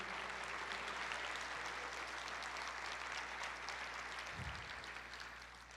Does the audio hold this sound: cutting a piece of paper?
no